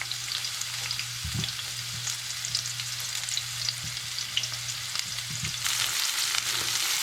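Onion fries in a pan for a chicken curry, producing a continuous close sizzle with a few soft thumps of stirring, and the frying grows a little brighter and louder near the end.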